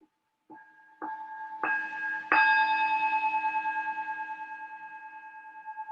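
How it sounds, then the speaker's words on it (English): A meditation bell is struck four times in quick succession, each strike louder and building on the last, then a bright sustained ring slowly fades with a gentle shimmering pulse, with no talking. "So I'm just going to sound the bell."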